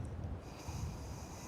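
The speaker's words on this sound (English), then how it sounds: "you can actually hear him breathing." A sleeping companion breathes softly in a campsite bed in Fallout 4; faint snorting breaths rise over a quiet, hissy background with no talk.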